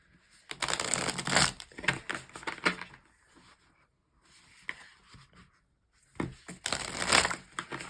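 Tarot cards shuffled by hand in bursts of crisp riffling and slapping, two louder flurries with softer tapping and handling between, close and with no talk.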